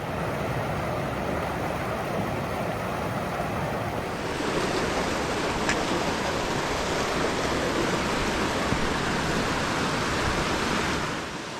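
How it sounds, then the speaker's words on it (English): A small waterfall spilling over drippy, rocky cliffs beside swampland in the White Mountains, heard as a steady, broadband rush of falling water that holds constant and fairly close throughout, with no voices. "Kind of a little waterfall."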